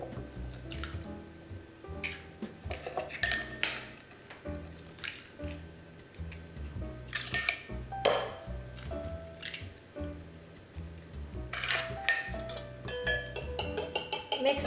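Eggs cracked into a bowl holding milk and olive oil with a tablespoon of flour, then whisked: repeated soft wet squishes and drips with occasional sharp clinks of shell or utensil against the bowl, close and steady throughout.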